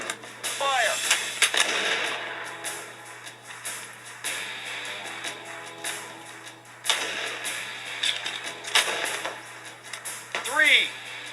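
Rapid-fire timed shooting with muzzle-loading and Sharps rifles, several sharp gun reports cracking out at irregular intervals amid outdoor background noise and brief voices.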